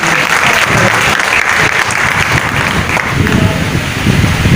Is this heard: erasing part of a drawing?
no